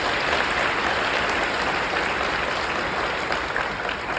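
Steady applause from a large conference audience for the University of Oklahoma president, dense and loud throughout with no voices over it.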